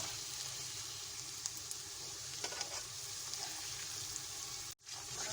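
Dry spice masala sizzles steadily in a pan with garlic and ginger while being stirred for baingan bharta, with light scraping throughout and one brief clatter near the end.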